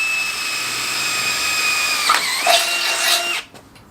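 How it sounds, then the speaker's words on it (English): A power drill whines at a steady high pitch, bogging briefly as it bites in, then revving up again before cutting off abruptly. "Go on, Spenny, get drilling."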